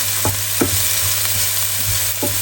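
Onions sauté in a pan for a creamy chicken dish, a loud steady sizzle with regular scraping strokes of a utensil stirring them, close and without talk.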